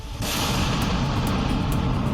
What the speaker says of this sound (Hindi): देखिए कैसे तेज धमाका होता है और चट्टान कई टुकड़ों में बंट जाती है